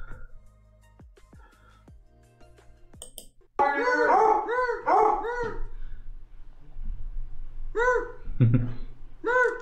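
A dog barks and howls in a burst of repeated, rising yelps and bays, loud and close, preceded by quieter clicks and broken by short pauses with some voice underneath.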